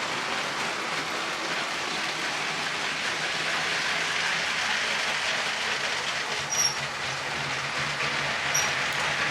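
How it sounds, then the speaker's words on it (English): Several LEGO toy trains run around their tracks together, a steady loud rattling clatter of wheels and cars with a few faint high squeals, continuous throughout and with no talking. "And it is loud with all these trains"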